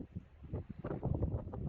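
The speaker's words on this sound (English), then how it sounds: "As you can hear, it's a very windy day." Low, gusty buffeting rumbles across the camera microphone in uneven bursts, a muffled roar of strong wind close up, in Cornwall.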